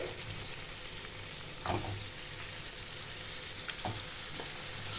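Washed, unmarinated mutton pieces for a potato-papaya mutton jhol sizzle in a hot pan, a steady close frying hiss with a few louder bursts as the meat is stirred and settles.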